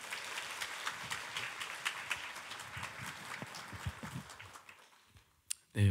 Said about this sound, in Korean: 뜨거운 박수로 목사님 모시도록 하겠습니다